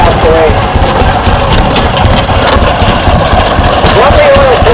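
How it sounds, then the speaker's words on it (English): Oil Pull tractor fitted with a Ford engine runs steadily at a show, a continuous low engine rumble throughout, with voices talking over it. "they start on gasoline, run on kerosene, and the engine is filled with oil"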